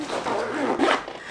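A backpack zipper is drawn along its track at close range in a quick, raspy zip lasting about a second, with a brief second pull at the end.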